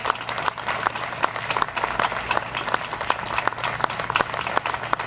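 Crowd at a commemorative Republic Day event honouring activists applauds, a fairly distant, even wash of clapping that runs steadily throughout.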